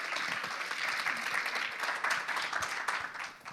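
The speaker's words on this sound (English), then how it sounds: "Thank you, Lirone, and a round of applause for you." Conference attendees clap after a talk on networking, a moderately quiet, uneven round of applause with individual claps standing out and the sound tapering off toward the end.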